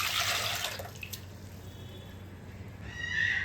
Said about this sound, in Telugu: కావాల్సినన్ని నీళ్లు పోయాలి